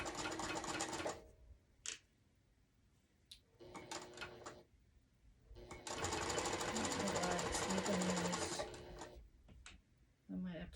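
A sewing machine stitches a quilt in bursts of rapid, even whirring, including one long run, with pauses where someone talks nearby.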